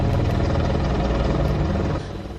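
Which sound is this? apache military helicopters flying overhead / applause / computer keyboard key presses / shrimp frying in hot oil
apache military helicopters flying overhead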